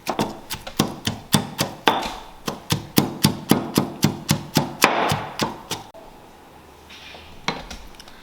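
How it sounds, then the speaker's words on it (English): A knife chops lemon leaf and chilies for Cambodian fish amok on a cutting board, with a steady run of close, sharp knocks at a brisk even rhythm, then a pause and a few final strikes. "I'm done chopping"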